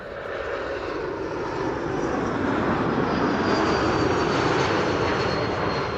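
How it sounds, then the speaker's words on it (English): An Air Baltic airliner on flight 621 from Riga lands at Amsterdam Schiphol Airport, its engines giving a steady, loud, broad roar that swells slightly and holds throughout, with no voices. "This is Air Baltic, flight 621, having arrived from Riga, landing in a few seconds."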